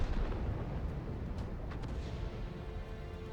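Tank cannon fire in a World of Tanks-style game makes a dense, rumbling boom that rolls on continuously and loud, with a heavy low-end roar filling the short burst.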